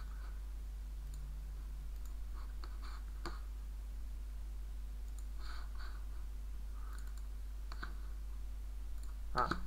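Light mouse clicks while working in Flash, a few faint, sparse taps under a steady low hum, with a voice talking quietly throughout.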